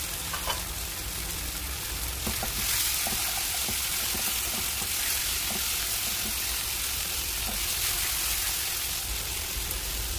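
Cut potato pieces fry for aloo jeera in a pan, giving a continuous, even sizzle like steady rain with occasional soft stirring clicks, close and alone without any voices.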